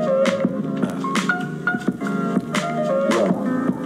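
Hip-hop track built on a sampled piano recording, with rhythmic piano chords and a drum beat, played back loud and full without talk.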